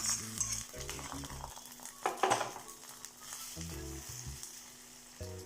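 Semiya and jaggery payasam cooking on a stove, with steady sizzling, stirring and spoon-on-pan scrapes up close. No one speaks.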